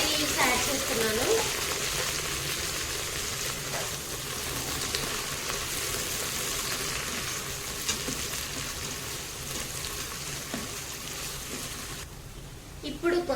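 Onion, green chilli and curry leaves sizzle steadily in the hot pot of an Agaro electric pressure cooker, a continuous close frying hiss with a person talking over it.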